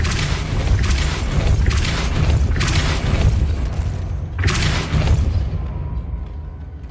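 A Depulso force spell lands in Hogwarts Legacy as a series of loud, deep booming blasts over a continuous rumbling game soundscape, with four or five thumping impacts spaced about a second apart before things settle.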